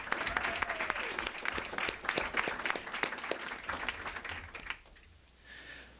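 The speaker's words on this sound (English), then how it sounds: "All right, everyone, please give these two young men another round of applause," Applause from a gathered audience at a high school college football signing, brisk clapping that holds steady and then fades out near the end, leaving only faint room noise.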